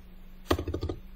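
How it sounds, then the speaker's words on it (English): Fingers tap out a quick burst of about half a dozen keystrokes on a computer keyboard, faint and close in a quiet room. "I'll type it as www.instagram.com. I'll type pinterest.com,"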